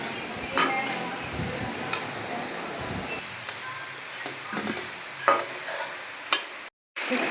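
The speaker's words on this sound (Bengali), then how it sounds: "আলু ভাজা হয়ে গেছে, এবার আমি থালাতে নামিয়ে নেব।" Potatoes frying in hot oil in a wok give a steady sizzle, broken by scattered clinks and scrapes of a utensil stirring, with one brief silent gap near the end.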